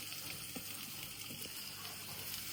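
Onions sauté in oil in a pan, giving a faint, steady sizzle with light crackles throughout and no talking.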